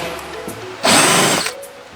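A power drill drives a screw into a van ceiling during a camper conversion, whirring loudly in one burst of under a second amid quieter handling sounds.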